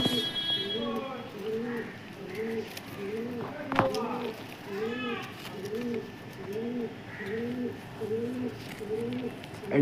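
Kalanka pigeons coo in a steady, repeating rhythm of soft low calls, fairly close, with other birds chirping faintly in the background.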